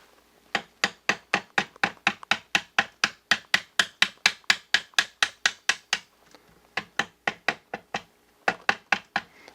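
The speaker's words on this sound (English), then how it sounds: "This is a very tight fit on my rifle, so I'm going to have to tap this into place." A Hi-Lux scope mount being tapped into place on an M14 rifle, about thirty sharp, evenly spaced knocks in a fast steady rhythm, close and loud, pausing briefly twice before resuming.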